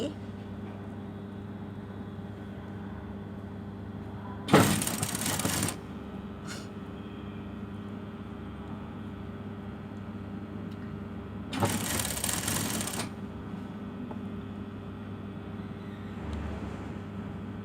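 A sewing machine stitches suit-style trouser fabric fed under the presser foot, running in two short bursts of about a second each over a steady background hum.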